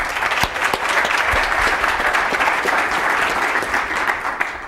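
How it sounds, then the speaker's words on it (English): An audience at a closing keynote session claps for the speaker, loud dense applause holding steady for several seconds, with a few sharper individual claps near the start. "Let's give him a good round of applause."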